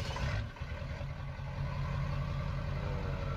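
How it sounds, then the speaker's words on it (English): Truck engine in Farming Simulator 19, a sharp start at the opening followed by a steady, deep idle rumble that stays loud and even throughout, with no voices. "I'm gonna start this thing up. You guys gotta hear this."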